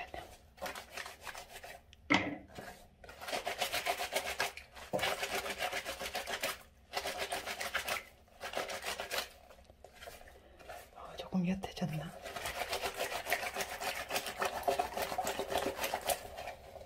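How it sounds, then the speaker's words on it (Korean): Acrylic-painted fabric being scrubbed hard by hand with neutral detergent, a rough rhythmic rubbing in bursts with short pauses, near and fairly loud, with a soft voice now and then. "세게 문지르니까."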